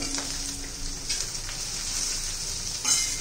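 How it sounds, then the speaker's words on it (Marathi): Green chillies frying in oil with mustard seeds, a steady bright sizzle throughout with faint occasional pops and a soft stir near the end, close by. "ते पण तेलामध्ये चांगलं भाजून निघलं पाहिजे, तळून निघलं पाहिजे."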